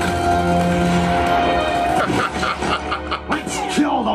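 Cartoon dogs bark, yip and whimper in a busy, dense mix of short, loud bursts, with music and other sounds running underneath.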